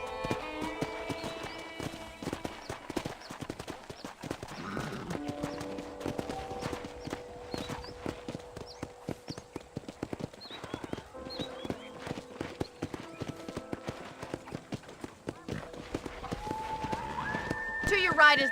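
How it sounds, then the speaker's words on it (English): Horse hooves clip-clop at a steady trot around a ranch in the video game Red Dead Redemption, with an occasional whinny, under in-game music and character dialogue. "let's see if you can still ride a horse"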